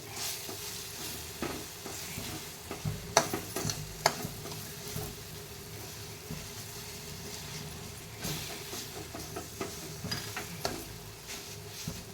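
Oil added to a pan while making kesaribath sizzles softly and steadily, with occasional stirring scrapes and light knocks close by at low volume, and no speech.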